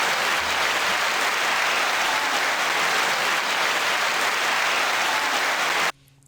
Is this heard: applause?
yes